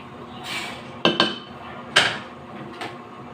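A spoon stirring pork hocks with long green chilies in a metal cooking pot, giving four sharp metallic clanks against the pot over a soft background, close by and without talk.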